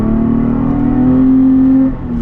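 A Toyota Tacoma V6 with a straight pipe exhaust revving, a loud, raspy engine note rising and holding before dropping off near the end, close and alone.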